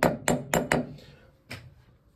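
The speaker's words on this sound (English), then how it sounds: "I am going to tap the casting onto the mandrel just with a mallet" A mallet taps a metal casting onto a mandrel in a workshop: four quick, light knocks in a row, then a pause and a single fifth tap, each close and short with a brief ringing decay.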